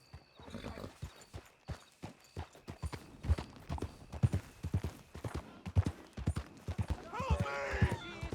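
Horse hooves clip-clop steadily in a Red Dead Redemption 2 game scene, close and rhythmic, with a whinny near the end and speech nearby.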